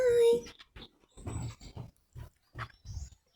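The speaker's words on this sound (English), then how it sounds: "my little doggy" A small pet dog on a farm gives short, faint whimpering and whining sounds in a broken series of brief bursts, close by in a quiet room.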